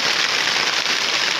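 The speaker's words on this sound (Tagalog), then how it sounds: "Lakas ang ulan mga idol." Heavy rain pours in a steady, loud, dense hiss with no breaks.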